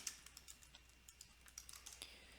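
Typing on a computer keyboard while working in Primavera P6 software: a quiet, irregular run of light key clicks under a low steady hum.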